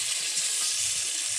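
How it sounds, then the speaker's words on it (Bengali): Chopped onions and garlic paste fry in a pan, giving a constant bright sizzle and hiss with faint stirring scrapes underneath. No voices over the sound. "এরপর পেঁয়াজ কুচিগুলো ভাজে নিচ্ছি।"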